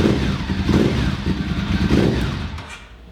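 A custom motorcycle engine idles loudly and steadily up close in a workshop, with a deep rumbling low end and slight rises in intensity, then eases off toward the end.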